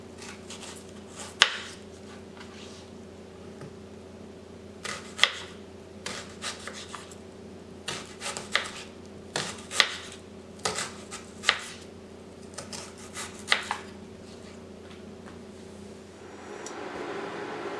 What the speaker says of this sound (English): Cut each half into 1/4 to 1/2 inch slices, or the thickness of your preference.